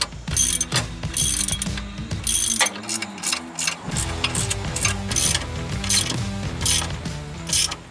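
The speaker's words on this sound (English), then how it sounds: "I'm going to start with the socket wrench, and then I'm going to move to the regular wrench." Socket wrench, 9/16 size, ratcheting on skid plate bolts of a Toyota Tacoma during an LCA skid plate install: loud, close, rapid clicking bursts in repeated strokes with brief pauses between them.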